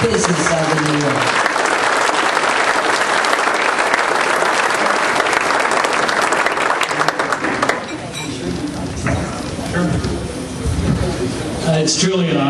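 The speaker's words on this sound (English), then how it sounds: "If you will give them a big round of applause as the 2011 Business of the Year." Loud sustained audience applause at a business awards event honoring the 2011 Business of the Year, thick clapping for about eight seconds that thins out, with speech appearing as it fades.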